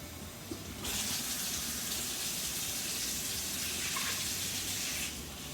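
Water streams steadily for several seconds, a cup and a half poured into an Instant Pot, then stops abruptly; close and fairly quiet.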